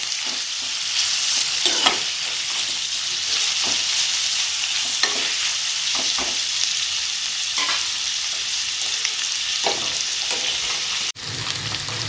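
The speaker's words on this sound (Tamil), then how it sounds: "இதுலேயே பச்சை மிளகாவும் போட்டுக்கலாம். போட்டுட்டு நல்லா வதக்குங்க." Green chillies sauté in a hot pan for paneer biryani, a loud, steady sizzle broken by spatula stirring scrapes throughout, with no voices.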